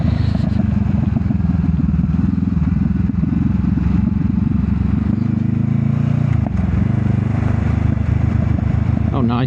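A motorcycle engine drones steadily and close while riding down a steep road with hairpin bends, with wind rumble and a rider talking over it throughout.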